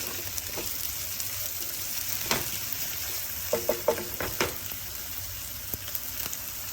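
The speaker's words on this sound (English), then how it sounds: "I'll add capsicum to it. And again fry it for some time." Capsicum and onions fry in a pan with a constant close sizzle, while a spoon stirs and taps a few times partway through.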